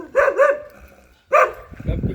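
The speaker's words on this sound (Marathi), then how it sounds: "आम्ही आल्यावर भोकायला लागला." A dog barks sharply and aggressively nearby, two quick barks followed by another after a short pause, with some rustling noise at the end.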